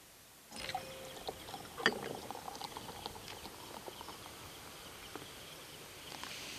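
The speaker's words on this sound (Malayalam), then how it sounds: "അടുത്തതിലും കൂടെ സോഡ ഒഴിച്ചു കൊടുക്കാം." Soda poured into orange kulukki sharbat in a glass, a fizzy foaming hiss that starts abruptly and continues steadily with crackling bubbles, close and fairly quiet throughout.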